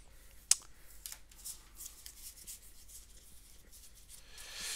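Board game cards being searched through and shuffled during a fantasy game session, with faint papery rustling and rubbing, one sharp snap early on, and a louder swish at the end.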